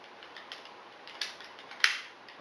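Faint metallic clicks from a bolt-action rifle being loaded, with a few scattered light taps and one sharper click near the end.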